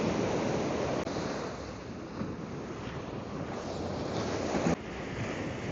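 Ocean surf breaks at the shore of a fishing beach at sunset, a loud, continuous wash of waves with buffeting wind noise and no voices.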